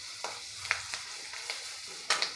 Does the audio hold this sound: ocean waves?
no